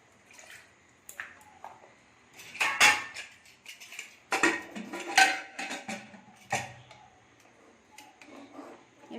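Potatoes dropped into a pressure cooker, then salt added, with irregular metallic clanks and clatter of pot and utensils, close by and intermittent between quieter pauses.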